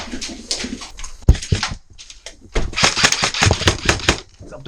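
Airsoft guns fire during a night battle around a building, sharp cracking shots arriving in bursts and rapid clusters at close range, mixed with players shouting and talking.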